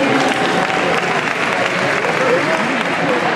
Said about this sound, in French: On les applaudit encore une dernière fois, s'il vous plaît.